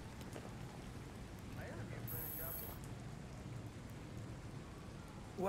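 Rain falling in the video game Gotham Knights, a quiet steady patter with soft low rumble underneath and a brief higher tone partway through.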